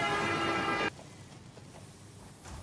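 Train in the video game Satisfactory, a loud sustained horn-like tone that cuts off abruptly, followed by a quieter rolling rumble.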